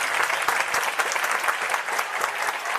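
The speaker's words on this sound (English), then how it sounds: "Let's get a round of applause in here." Steady applause from many hands claps continuously and evenly at moderate loudness, with no voices over it.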